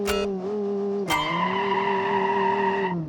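A heavy engine built from a giant lump of pig iron, with wide rear tires, drones steadily while the rear wheels spin and squeal in a racing video game. A sharp screech opens the clip and recurs about a second later, over a continuous loud tone.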